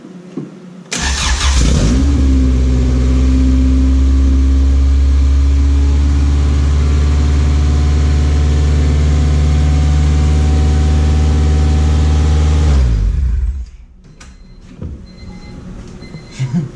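A Honda Civic with a swapped LS VTEC engine, leaking fuel at the return line, fires up and settles into a loud, steady, deep idle close by. After roughly twelve seconds it shuts off, leaving faint background noise.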